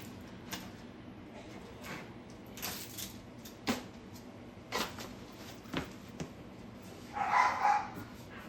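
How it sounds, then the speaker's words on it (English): Several dogs play nearby, giving scattered short barks and yips at irregular intervals over several seconds, fairly faint and without talk. "Dogs are playing, if you're wondering what the noise is."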